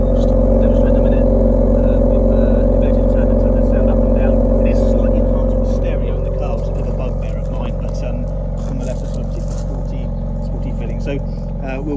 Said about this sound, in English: Really hear that sporty exhaust sound now